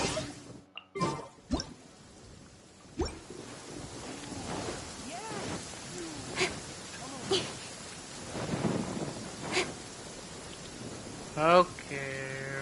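Heavy rain in Genshin Impact, with sharp thunder cracks near the start and scattered louder claps and drips over a steady patter, and short game sounds mixed in near the end.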